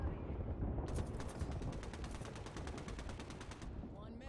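A rapid burst of automatic gunfire from Apex Legends, a dense string of about twenty evenly spaced shots lasting nearly three seconds, loud over a low background rumble.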